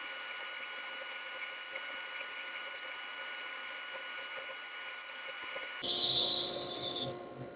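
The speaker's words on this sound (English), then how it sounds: "just run this up against the pattern sander and let it sand it to shape" A pattern sander hums steadily while shaping wild turkey feather fletching, then a brighter rasping burst rises near the end as the feather meets the abrasive; no voices.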